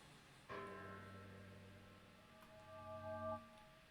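A bell in modded Minecraft is struck once and rings on with a steady, sustained metallic tone that swells slightly before fading, with no voices over it.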